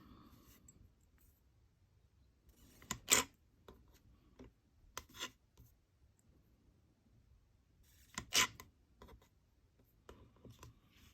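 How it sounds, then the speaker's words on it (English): A blade trims the scrappy edges off polymer clay pieces for a checkerboard-pattern earring project. Two quiet clusters of soft scraping clicks sound against near silence, with no talk. "So now I'm just going to trim down these ones that I've done here just to get off all those scrappy edges."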